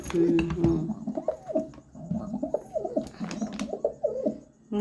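Pigeons coo near the microphone while feeding, with a run of soft, repeated throaty coos in a steady rhythm and a few faint chirps behind.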